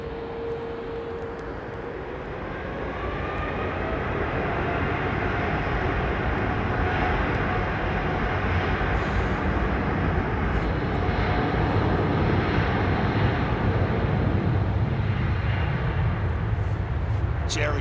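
Boeing 777 jet climbing out after takeoff from London Heathrow, a loud sustained engine roar that swells and holds steady across the whole stretch, broad rumbling thrust with no talk over it.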